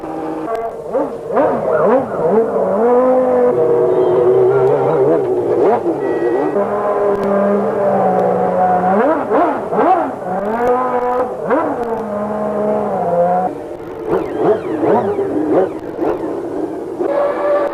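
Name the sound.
Formula One cars running on track during warm-up session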